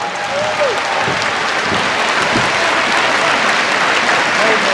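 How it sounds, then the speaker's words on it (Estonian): Applause from a large arena audience fills the Tondiraba ice hall as a greeting at the opening of an evening event, a dense and steady roar of clapping that holds at full level from start to finish. "Tervitame üksteist. Tunnise aplausiga."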